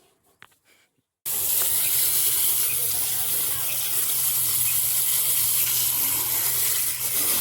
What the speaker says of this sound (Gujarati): ફુવારો છે રેડી ટ્રેક્ટરને ફટાફટ સર્વિસ કરી નાખો આપણે